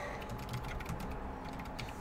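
Quiet, steady typing on a computer keyboard, with fast, close key clicks continuing evenly over soft room noise.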